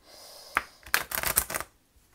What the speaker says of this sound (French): je vais mieux les mélanger